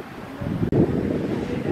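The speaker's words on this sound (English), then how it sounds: "As you can tell, the wind's blowing." Wind blowing across a covered beach patio at a Biloxi Beach restaurant, a continuous low buffeting rumble on the microphone with one brief dropout. No clear talking.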